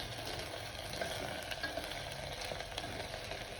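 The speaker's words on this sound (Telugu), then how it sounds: "ఈ ఉల్లిపాయలు ఇలా ఫ్రై చేసుకోండి" Onions frying in a pan for paneer biryani give a continuous close sizzle with light stirring scrapes, steady and unbroken throughout, with no voices.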